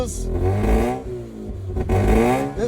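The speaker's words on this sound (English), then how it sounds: "just hear how the exhaust sounds" A 2004 Mazda RX-8 track car's rotary engine revs up and down twice, a deep burbling exhaust rising to a raspy growl, close and loud.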